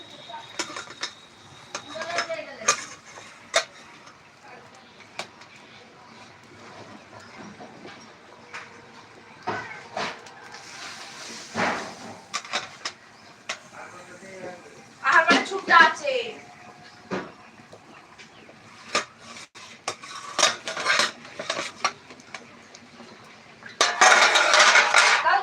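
Metal utensils scrape and clink against a pot while rice cooks, in sporadic clatters with a louder burst of rattling near the end, heard under occasional talk.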